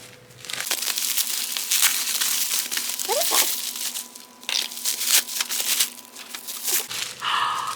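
Cutting open a taped subscription box with a small cutter, loud close crinkling, tearing and crunching of tape and packaging that goes on continuously with uneven bursts.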